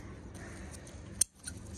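A few soft scissor snips, then one sharp close cut, as scissors clip a pigeon's wing feathers in a quiet space.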